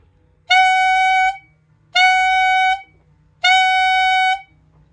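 Three separate tongued notes sound on a clarinet head joint alone, each a bright, buzzy, harmonically rich tone held about a second, evenly spaced with silence between, close and loud.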